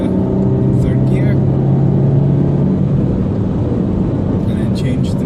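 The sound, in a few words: car accelerating and shifting up to third gear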